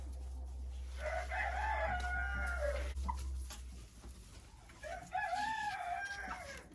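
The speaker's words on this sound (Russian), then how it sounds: "а тут у нас сидит квочка. Вот эта курочка, квочка." A broody hen sits on her nest in a chicken coop, giving two drawn-out, wavering calls a few seconds apart, close and fairly clear over a steady low hum.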